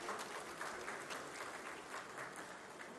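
A crowd at a Pakistani government IT project launch with the prime minister bursts into applause, dense overlapping clapping filling the moment, steady and somewhat distant, with no voices on top.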